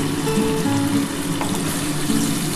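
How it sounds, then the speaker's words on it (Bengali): Water poured into a pan of chana dal curry cooking on the stove, a steady pouring and bubbling hiss that holds at one level throughout, with faint clinks over it. "আর একটু এর মধ্যে জল ঢেলে দিলাম"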